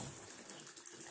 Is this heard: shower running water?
yes